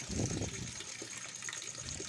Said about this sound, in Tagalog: malakas yung tubig dito